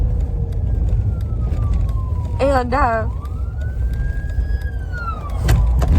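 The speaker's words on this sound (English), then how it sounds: "Sorry, there's an ambulance." An ambulance siren passing outside: a wailing tone that rises and falls clearly behind a woman's brief speech, over steady traffic rumble.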